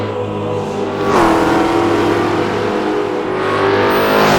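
A Ford GT40 race car engine roars loud and close, its note climbing sharply in one hard rev and then holding a sustained, droning pitch at high volume.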